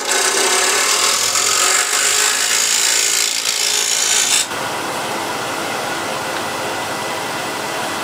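A hand scraper shaves a rough softwood surface in long, loud rasping strokes, a dense scratchy grind that cuts off abruptly partway through and leaves a quieter hiss behind.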